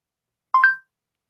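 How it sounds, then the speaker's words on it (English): Phone dialing tones sound as a Google Now voice command places a call: a short pair of clean, loud electronic beeps, alone against silence. "Then it makes a phone call."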